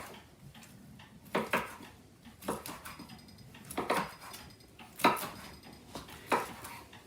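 Knife cutting sausage into half-round slices on a board in a farmhouse kitchen, a series of crisp, separate clacks and clinks spaced a second or so apart, close and fairly quiet.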